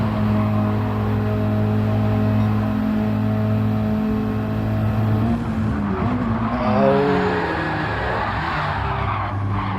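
Race cars in a GT racing video game bunch up heading into a tight hairpin, with steady engine drones that give way to tire squeals, skidding and revving as they brake and jostle through the corner, no talking.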